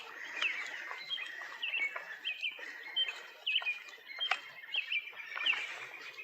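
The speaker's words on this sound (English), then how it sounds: "this is quite a good spot for hearing the birds chirping" Birds chirp and tweet in repeated short bursts at a park in Washington, DC during cherry blossom season, fairly faint and a little distant, with no talking over them.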